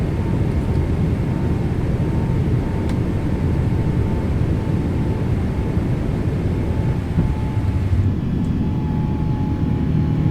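Steady broadband roar of a PMDG 777 airliner climbing out in Microsoft Flight Simulator 2024, a continuous engine drone holding level and loud throughout with a faint steady tone riding on top.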